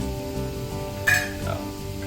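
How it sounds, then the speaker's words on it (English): Vegetables sauté in a pan as spaghetti daube is prepared, a steady low sizzle and frying bed with a sharp metallic clink of utensil on pan partway through and soft stirring scrapes, close and moderately quiet. "now vegetables sauteing"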